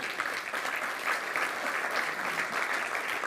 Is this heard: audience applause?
yes